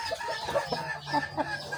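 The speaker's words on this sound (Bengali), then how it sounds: "ব্রাহ্মা মুরগিটা আছে ওইটা ডাকতেছে, মানে হচ্ছে ডিম পারবে মনে হয় আজকে" A Brahma hen on a farm gives repeated clucking calls before laying an egg, a loud, close run of rising squawks with short gaps between them.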